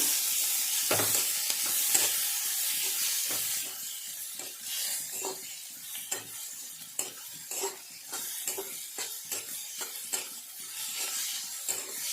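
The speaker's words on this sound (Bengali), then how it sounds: "তো পেঁয়াজ লঙ্কাগুলো কিছুক্ষণ ভেজে নিয়েছি" Onions and green chillies sizzle in a pan for a green tomato dish, a steady close fry broken by repeated scraping taps of a spatula stirring, with no voices.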